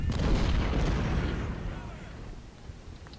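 A heavy artillery boom from the Civil War strategy game Ultimate General, loud at first and then rumbling away over about three seconds.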